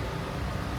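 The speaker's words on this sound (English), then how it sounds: "we have the AC running on the car and the house AC is running" Car air conditioning and a house AC unit run together inside a van on a very hot day, giving a faint, steady whooshing hum with no talk.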